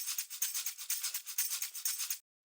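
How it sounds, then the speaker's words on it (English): A gritty, realistic shaker loop, almost tambourine-like, plays as a steady rhythmic pattern of bright, crisp rattling shakes, close and alone, ending abruptly into silence. "So you can hear just kind of like a gritty, more like realistic shaker loop"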